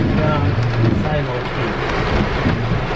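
Heavy rain and gusting wind during a hurricane in Jamaica, a loud, constant roar with wind buffeting the microphone up close.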